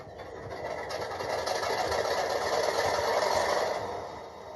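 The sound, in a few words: model train MK5000C locomotive sound decoder engine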